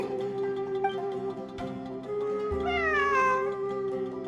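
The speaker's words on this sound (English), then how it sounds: "It really is a cat." A cat meows in a video game event quest, with several drawn-out, wavering harmonic cries over a steady low ambient drone and no talking.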